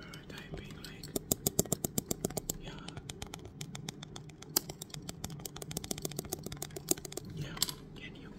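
Rapid fingertip tapping and clicking on a camera body in an ASMR setting, close and crisp, in dense irregular bursts with brief pauses. Soft whispering runs under the taps throughout.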